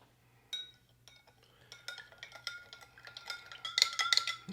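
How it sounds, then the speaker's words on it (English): A spoon stirs a drink in a glass during a Russian military ration tasting, giving a run of light clinks and chinks that grow busier and brighter toward the end, close and fairly quiet with no talk. "Get our drink stirred up real quick."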